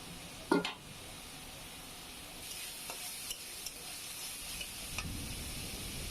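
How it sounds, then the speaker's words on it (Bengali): A mix of ground turmeric, chili and coriander fries in a pan before shrimp go in. A soft, steady sizzle is broken by a sharp utensil knock early on and a few light scraping stirs. "আমার মশলাটা একটু কষানো হোক"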